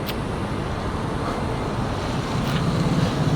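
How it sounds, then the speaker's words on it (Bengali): Waterfall pouring down a hillside about a kilometre up in the Malaysian mountains, with people bathing beneath it; steady broadband rushing water fills the whole clip, rising slightly louder near the end. "ঝর্ণার পানিটা কত সুন্দরভাবে পড়তেছে"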